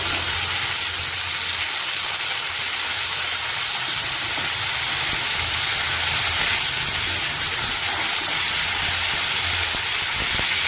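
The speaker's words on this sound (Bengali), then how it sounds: "এবার আমি শিমটা এর মধ্যে দিয়ে দেবো" Flat beans tipped into a hot pan with chilli make a loud, continuous hissing sizzle that holds steady and close throughout, with no talking.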